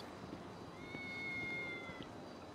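A cat meows in the video game GTA Online, a single drawn-out, fairly faint call over a soft game background.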